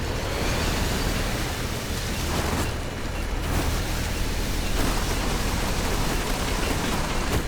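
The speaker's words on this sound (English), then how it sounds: "Use the vacuum." Vacuum tool in the video game Pacific Drive runs as a steady, broad rushing hiss for several seconds, dipping slightly around the middle, with no voices.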